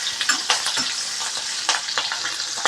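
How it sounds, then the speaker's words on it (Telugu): Green chillies fry in hot oil for Apollo fish, a steady close sizzle crackling continuously with stirring scrapes breaking through. "ఇందులో పచ్చిమిర్చిలు ఒక 3 పచ్చిమిరపకాయలు ఈ విధంగా క్రాస్గా కట్ చేసుకొని అవి కూడా యాడ్"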